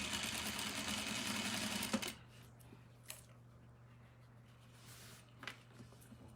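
Sewing machine stitching an elastic casing on a skirt, running loud and steady for about two seconds, then stopping, leaving a low hum and a few faint handling clicks.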